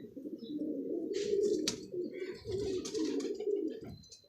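Pigeons coo steadily and close by, a low throaty burbling that rolls on almost without pause, with a few faint chirps above it.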